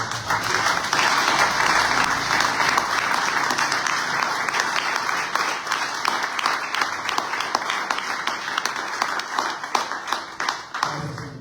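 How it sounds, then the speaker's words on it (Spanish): A church congregation at a Sunday service breaks into sustained, loud applause for the Lord, dense clapping from many hands filling the room steadily for several seconds before tapering slightly at the end. "Denle un aplauso al Señor."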